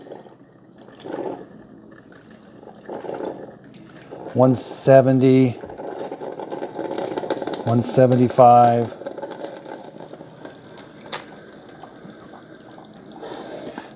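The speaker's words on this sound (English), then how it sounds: "Now we've got to let it finish dripping for a little bit, even though it sounds like it's done." A Mr. Coffee single-serve coffee maker brews hot coffee, a soft continuous gurgle and drip broken by two louder sputtering bursts, with someone speaking briefly over it.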